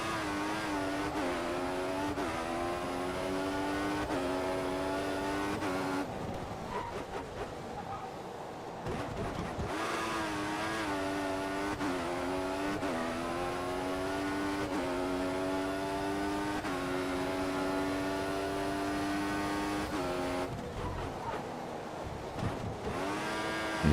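A Formula 1 race car engine in the F1 2014 video game at the Bahrain Grand Prix night race screams steadily, with repeated upshifts, brief lifts and revs climbing again over about twenty-four seconds.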